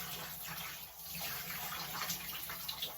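Water running steadily from a tap or shower while a man's hair is rinsed, a continuous close hiss and splash with no talk.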